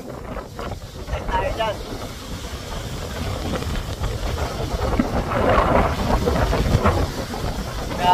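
Strong wind in Australia roaring and buffeting a nearby microphone, steady and loud with gusts swelling toward the end, as someone talks briefly over it.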